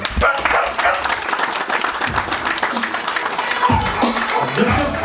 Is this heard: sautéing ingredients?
no